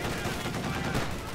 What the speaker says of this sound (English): The AA half track, which is 30mm AA gun and the dual quads, 50 calibers, making short work there